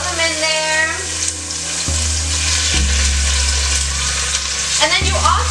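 Chicken pieces for stew drop into a hot pan and fry with a loud, steady close sizzle, bursts of spitting oil layered over a constant crackle with no talking.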